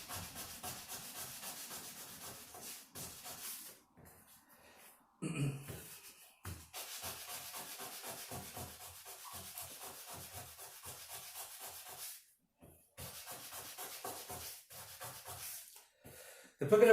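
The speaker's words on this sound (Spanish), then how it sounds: "Después que le pasamos la lija 1000, yo le paso una 1500." Fine-grit sandpaper, moving from 1000 to 1500 grit, works by hand over a piece of Mapuche silver jewelry, making steady close rubbing strokes in long runs with a few short pauses between passes.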